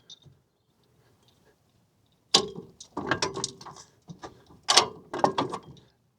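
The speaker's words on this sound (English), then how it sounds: "So then you want to pull your pin, lift it up, and then put your pin back in." Metal pin pulled and pushed back into a Cravot CyberRack E2 bike rack, preceded by quiet, then clustered sharp mechanical clicks and clanks in two bursts, close and fairly loud.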